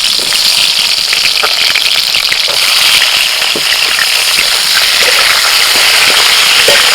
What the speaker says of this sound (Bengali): তেল গরম হয়ে গেছে, এবার একে একে পটলগুলো ভেজে নেব